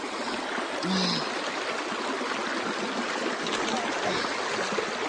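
Steady broadband rush of river water at the Snake River, washing mud off legs after wading, continuous and close with a brief splash near the start.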